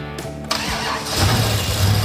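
A 1971 Plymouth Satellite farm-find engine cranks and catches, then roars up to a loud, rough, steady run close by, with no talking over it.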